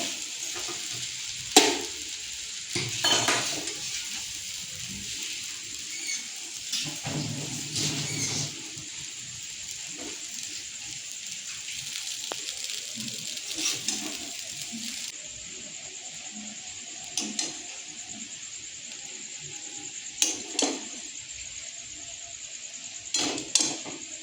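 Maggi noodles with egg and spices are stirred in a pan, a soft continuous sizzle under scattered spatula clinks and scrapes against the pan, fairly quiet and without speech.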